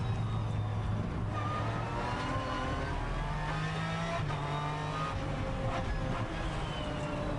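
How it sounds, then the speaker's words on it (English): An Aston Martin GT race car at Circuito de Navarra, heard from on board as it downshifts into a corner, a loud continuous engine note stepping through gear changes with revving blips and a steady howl throughout. "Great noise from the Aston, down a couple of gears into turn 13."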